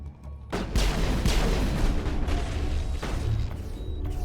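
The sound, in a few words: flashbang explosions in a video game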